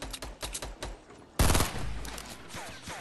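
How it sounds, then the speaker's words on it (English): Rapid bursts of automatic gunfire from a Fortnite battle royale match, sharp shots at first and then a loud sustained fusillade that keeps rattling to the end, with no talk over it. "They're shooting. The other guys are shooting you."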